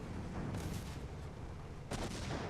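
Mine launcher firing during a competitive vehicle-combat video game match: two bursts of harsh, crackling explosive blasts, about a second apart, heard faintly at a distance against steady background rumble.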